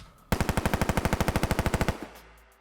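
A gunfire sound effect with studio reverb that places it in a giant room: a rapid burst of about twenty evenly spaced loud shots, followed by a long reverberant tail fading away.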